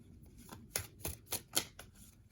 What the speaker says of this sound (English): The only thing I don't like about this is that it's so difficult to shuffle.